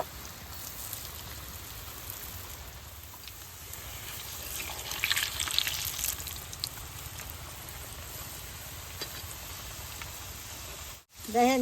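Potato and flour snacks frying in hot oil in a wok, a soft continuous crackling hiss like light rain that swells briefly in the middle, fairly quiet with no talk over it.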